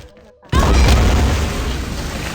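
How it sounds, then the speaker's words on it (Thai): A bomb goes off in the video game XSHOT: after a short quiet moment, one loud, sudden boom bursts out and then trails into a dense, rumbling roar that fades only slightly. "นี่เนี่ยระเบิดนี่ก็แรง"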